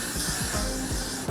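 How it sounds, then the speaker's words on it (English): A spray can hisses in a steady, continuous burst at close range, applied during a lace wig install, with no talk over it. "You want to spray it like a little bit far back,"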